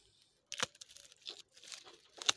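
A thick rhubarb flower stalk going to seed is cut in a garden, giving a few short, close tearing, crunching snaps spread over about two seconds with quiet gaps between them.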